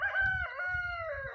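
A rooster crows on a farm where village chickens are kept, a single long clear crow with gentle low clucking beneath it, heard fairly close.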